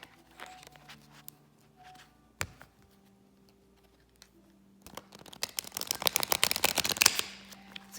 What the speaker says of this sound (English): Let's shuffle these real quick.